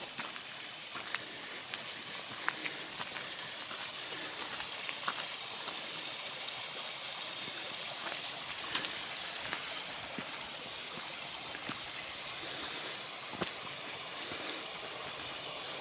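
A cold mountain stream in the Pauri Garhwal hills of Uttarakhand rushes steadily and close by, a constant broad watery hiss with small splashes and drips scattered through it, and no voices.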